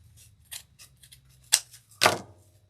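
Scissors snip through red deco mesh for a Valentine wreath, several light clicks followed by two louder, crisp cuts, close and alone without talk.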